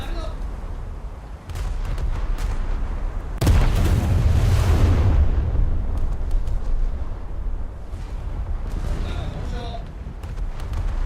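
A shell room detonation on the French battleship Richelieu in a naval video game, a sudden heavy boom partway through with a long rumbling decay, set among scattered distant gunfire and faint background noise.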